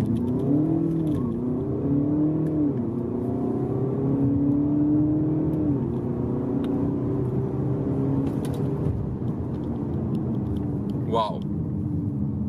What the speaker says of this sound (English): It's almost like a launch control start in a sports car.